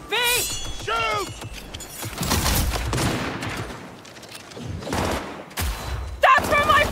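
Gunfire rattles through a Cyberpunk 2077 street shootout, bursts of automatic and single shots cracking close and loud amid impacts and debris, with voices shouting over the fighting.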